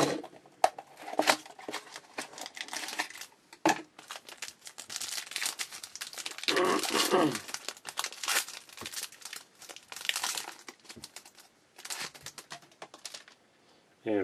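A 2011 Bowman Sterling trading card pack is torn open and its glossy wrapper crinkled, with close, sharp rustling and tearing bursts that come and go over about fourteen seconds.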